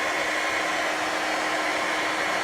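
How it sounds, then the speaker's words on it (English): A blow dryer runs steadily at close range, aimed at small pinwheels that light up as they spin, producing a constant loud airy roar with no talking. "even though the blow dryer is blowing closer to the blue"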